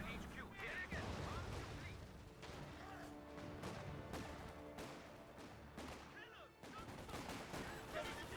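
Vickers machine gun fire during a Company of Heroes 2 match, bursts of gunfire and scattered explosions running throughout amid dense battle noise, with a commentator talking over it.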